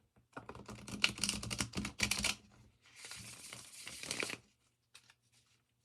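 Quick, papery riffling of a soft-card tarot deck in two bursts, close up, with a short pause between them and quiet afterward.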